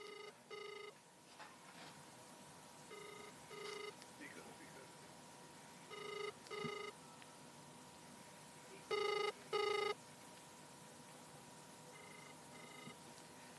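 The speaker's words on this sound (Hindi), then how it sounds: "देखिए फोन रिंग जा रहा है, फोन उठा नहीं रहे हैं।" A telephone ringing unanswered on an outgoing call to a district office in Kaushambi, heard as repeated short double ring tones at a steady rhythm over faint background noise.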